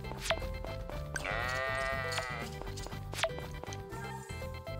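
Sheep bleating in the farming video game Story of Seasons: Friends of Mineral Town, a few wavering bleats over a steady game music loop, with soft footstep-like taps.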